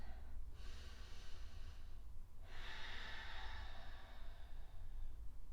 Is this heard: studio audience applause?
no